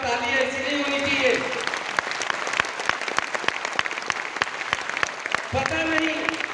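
An audience at an RCM World stage event claps steadily, a dense patter of applause, with a voice speaking over it at the start and again near the end.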